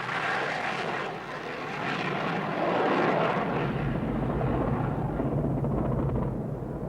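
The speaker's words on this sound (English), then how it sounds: "The Tornadoes continued to fly to attack a wide variety of targets." RAF Tornado jet aircraft flying during the Persian Gulf War, a loud sustained roar that swells and holds steady with a broad rushing engine noise, no voices over it.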